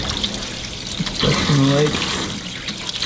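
Tap water runs steadily over a freshly cut northern pike fillet, a continuous close splashing rush, with a brief bit of speech over it.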